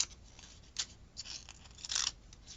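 Cracker scissors snip through background paper in a few short, crisp cuts, the bursts irregular and close, with quiet gaps between them and no talking.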